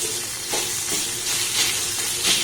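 Boiled raw mango is stirred in a pan on low heat, with turmeric added. A steady soft sizzle runs under repeated scraping strokes of a spoon, close and moderately loud, with no talking.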